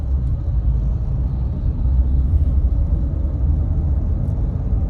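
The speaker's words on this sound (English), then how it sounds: "All this traffic." Steady road traffic rumbles close by, a continuous low whir of passing cars with no break and no talking.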